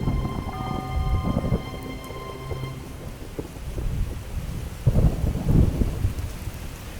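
Steady rain falls while low thunder rumbles repeatedly, swelling louder toward the end, with no voices present.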